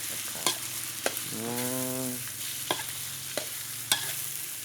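Curry paste for a catfish curry stir-fried in a pan, with steady sizzling, a few sharp scraping clicks of the spatula, and a short tonal whine in the middle, heard alone at moderate level.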